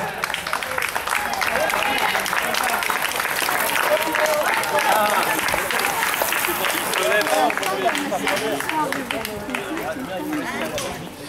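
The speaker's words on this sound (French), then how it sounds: "On peut encore applaudir s'il vous plaît." Spectators at a youth cycling race awards ceremony in Gagny clap in a long, dense round of applause, with crowd chatter and voices mixed in throughout.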